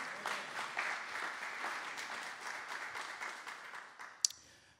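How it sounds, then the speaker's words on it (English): Church congregation at Harvest Bible Fellowship breaks into applause, a fairly quiet, steady patter of clapping hands that fades near the end, broken by one sharp louder clap or knock. "So you can give a round of applause for that."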